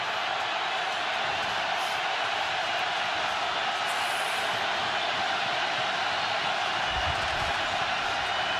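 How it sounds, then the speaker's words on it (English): A football crowd roars at Lambeau Field in Green Bay during a Bears at Packers game played in sloppy conditions, a steady broad wash of noise that holds level throughout with no clear breaks. "Third and 1 with the crowd roaring at Lambeau."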